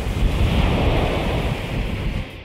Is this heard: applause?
no